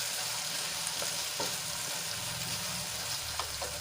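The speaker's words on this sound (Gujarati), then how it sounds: "રીંગણા અને ચોળી થોડુંક સંતળાઈ ગયું છે" Eggplant and cowpea beans sizzle steadily in a hot pan, a continuous frying crackle with occasional soft stirring clicks, no voices.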